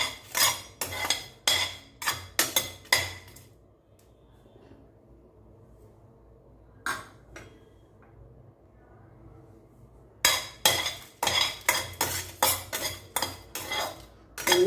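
Cloves and whole spices being dry-roasted on low flame and stirred in a metal pan, giving bursts of scraping and clinking, then a quiet pause with a couple of faint taps, then more rapid stirring clatter.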